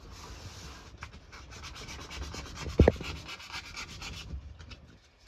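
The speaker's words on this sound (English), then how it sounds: "I'm just sanding that down so that when we bolt the neck in, it's got a really good surface" Hand sanding on the neck pocket of a Harley Benton DIY guitar kit body, a steady run of close, quick rubbing strokes with a brief sharper knock midway.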